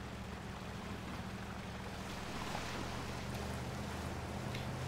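In the Spintires: Mudrunner video game, a truck pushes through a river, making a continuous rushing wash of water over a low, steady engine drone, with no talk.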